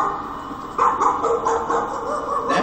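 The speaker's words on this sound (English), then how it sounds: "Who's barking?" In the horror video game Layers of Fear, a dog barks and yips in a short run of muffled, slightly distant calls over a quiet background.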